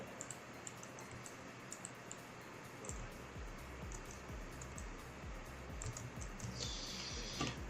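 Steady typing on a computer keyboard with rapid, uneven key clicks at close range, quiet and continuous with no voices.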